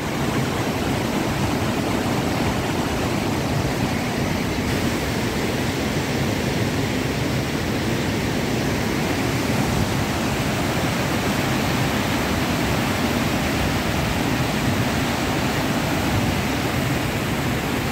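Turbulent waterfall pouring over the Ponte Queimada on the Rio Doce in Pingo-d'Água, Minas Gerais, a steady, loud, unbroken roar of rushing water with no voices.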